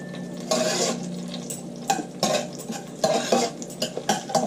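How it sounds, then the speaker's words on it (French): Coarsely chopped onions stirred in a pan for a zucchini and coconut korma, giving scraping utensil strokes and clatter over a soft sizzle, in irregular bursts close by. "je mets mes oignons grossièrement coupés"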